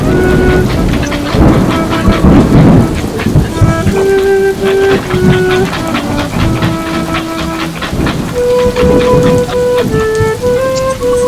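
Heavy rain pours and thunder rumbles during a lightning storm, loud and continuous, with sustained musical tones layered over the storm.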